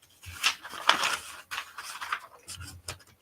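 Scissors snipping through paper shirt design cutouts, a series of close, crisp cutting bursts with brief pauses between them.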